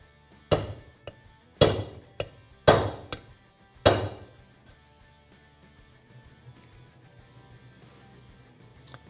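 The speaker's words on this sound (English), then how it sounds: "We can take our socket and hammer and begin to drive out the seal and the bearing." Hammer blows on a socket drive the seal and bearing out of an ATV/motorcycle water pump: four loud metallic strikes with a few lighter taps between them, close by, then a quiet tail.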